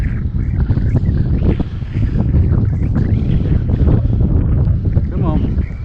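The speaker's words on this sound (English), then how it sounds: "there's a bit too much wind for this today" Strong wind gusting across a hillside slope, a loud continuous rumble and buffeting, with a voice talking briefly over it.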